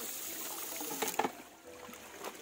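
Strong flow of water gushing outdoors, a continuous broadband rush with a few brief splashy bursts near the middle, fairly close and with no voices.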